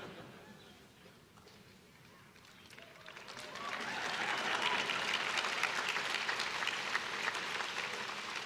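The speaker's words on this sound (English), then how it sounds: "You know it's a nice crowd when a drink of water elicits applause" Applause from a large, warm audience at a Harvard University graduation address, starting softly and swelling into a loud, sustained ovation of dense clapping that carries on to the end.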